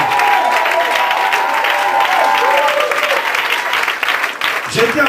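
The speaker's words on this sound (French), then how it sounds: "Je veux que tu l'acclames très très fort." A church congregation claps loudly in a dense, continuous burst, with cheering voices mixed in and a few whistles or shouts rising above the wall of hands.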